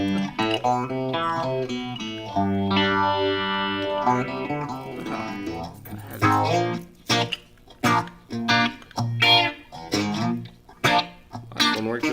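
An electric guitar plays through a Ross phaser pedal with distortion, sustained chords sweeping and swooshing, then a run of choppy, separate strummed hits toward the end.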